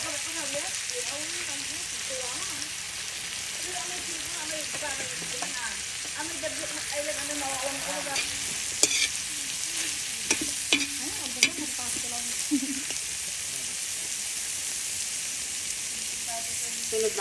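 Carrots being sautéed in a pan for a home-cooked dinner: a continuous loud hiss of frying throughout with a few sharp clinks of utensil on pan, and voices heard faintly underneath.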